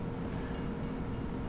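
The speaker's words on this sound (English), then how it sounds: "oh, just in time for the train" A train rolling past in a farming video game, a steady low rumble with no breaks, close and even in loudness.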